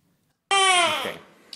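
After a moment of silence, a baby lets out one loud, close wail that fades, then starts another cry at the end.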